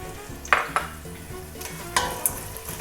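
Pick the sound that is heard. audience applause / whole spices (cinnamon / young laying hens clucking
whole spices (cinnamon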